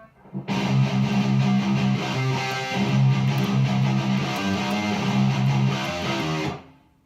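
Distorted electric guitar plays an outro riff, dense and loud with octave figures and triplet runs, heard alone for about six seconds before ringing off.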